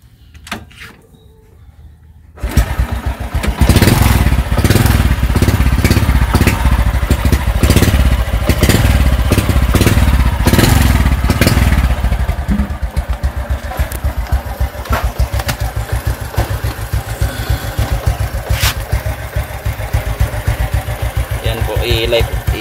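Motorcycle engine kicks to life after a quiet moment, then settles into a loud, steady idle that runs throughout, close to the listener.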